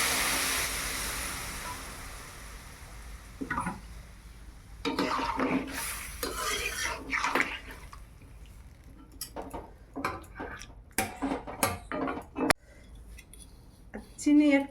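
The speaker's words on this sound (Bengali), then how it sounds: "এবার আমি জল দিয়ে দিলাম, মশলা বাটা জল।" Spiced vegetables with gourd stems cook in a village kitchen after spice-paste water is poured in, with scattered metallic clinks and scraping of a spoon against the pot between quieter stretches.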